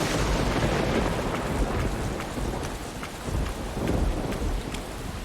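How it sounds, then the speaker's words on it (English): Heavy, sopping rain pours steadily outdoors with low rumbling thunder rolling underneath, a dense and constant wash of sound with no voices. "Don't you love being out in the sopping wet rain?"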